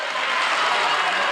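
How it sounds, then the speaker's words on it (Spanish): Politicians in a parliamentary chamber applaud after an energetic speech, a steady dense clapping that stays loud and even throughout, with no voices rising above it. "los halcones de Juntos por el Cambio aplaudiendo a Ritondo por un discurso muy enérgico"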